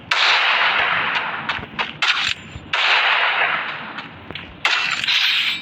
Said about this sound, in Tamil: போடு ஹெட்ஷாட்டா, ஒரு ஹெட்ஷாட் அடிச்சாச்சு கைஸ்